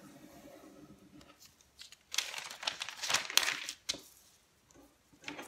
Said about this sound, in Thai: กรีดให้เรียบค่ะ